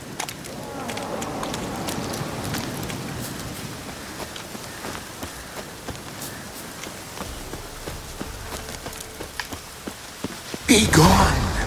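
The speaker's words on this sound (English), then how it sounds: "Looks like rain." Steady rain falling in The Witcher 3, a constant close patter on surfaces with scattered drops, joined near the end by a louder burst of noise.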